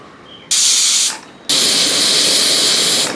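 Mixer grinder whirring on curry paste with water for a Kerala cucumber curry, two loud bursts of grinding hiss separated by a short pause.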